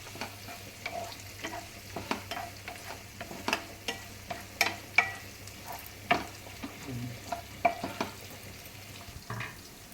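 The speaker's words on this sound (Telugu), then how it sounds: "ఉల్లిపాయలు మగ్గుతున్నాయండి మంచిగా" Onions fry quietly in a pan for chicken curry, a soft steady sizzle broken by repeated scraping stirs of a spatula, recorded close with no talk.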